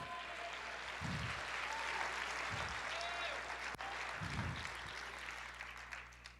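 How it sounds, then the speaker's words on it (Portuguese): A church congregation applauding during a sermon, a broad, sustained wash of clapping from a large crowd with occasional low thuds underneath. "Aplauda o Senhor"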